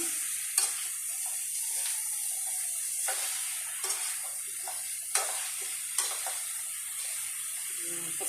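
Vegetables for pakbet sauté in a pan with a steady high sizzle, punctuated by several sharp clacks of a utensil stirring against the pan at irregular intervals.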